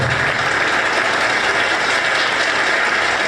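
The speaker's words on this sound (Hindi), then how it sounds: "जोरदार तालियों से स्वागत करिए" An audience applauds to welcome a speaker at a Lakshman Murcha event, a dense, steady clatter of many hands clapping throughout, loud and close.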